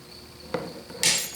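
Beverly shear blades cutting through aluminum sheet: a sharp metallic snap followed by a brief bright hiss as the cut finishes, close and fairly loud against a quiet room.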